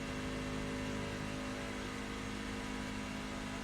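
NASCAR truck engine in the iRacing simulator at Daytona, a steady loud drone of a high-revving race engine with constant whirring tone and no talk.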